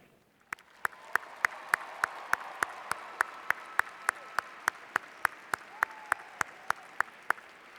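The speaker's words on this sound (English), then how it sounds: "what I would like to ask is for the graduates to applaud all those who have helped you" Graduates at a commencement ceremony applaud: a soft, distant wash of crowd clapping runs under a single sharp, evenly spaced clap close by, beating steadily for about seven seconds.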